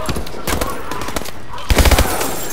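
Automatic weapon fire in the Call of Duty Advanced Warfare campaign, rapid bursts of shots with a louder cluster of close, punchy rounds near the end, over a noisy battle mix.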